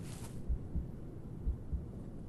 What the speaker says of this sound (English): The controller is thumping with a heartbeat.